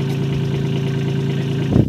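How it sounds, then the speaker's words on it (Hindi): A Kubota tractor engine runs at a steady idle on a farm, giving a continuous near, loud mechanical drone that swells briefly near the end as if revving. "ये कुबोटो का ट्रैक्टर है"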